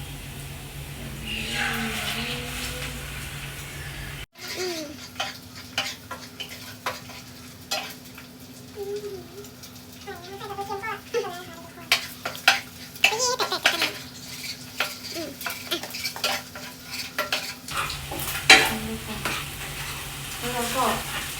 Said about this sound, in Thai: คนแล้วก็ผัดไปเรื่อยๆเลยนะคะจนกว่าน้องจะหอมคะ